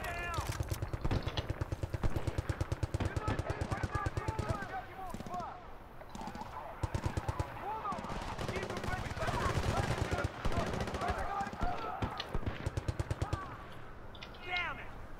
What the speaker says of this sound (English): I hear some gunshots,